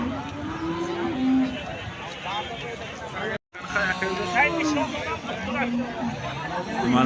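Cows mooing at a busy livestock market in Bukhara, several drawn-out low moos repeating over a steady babble of crowd chatter and bargaining voices.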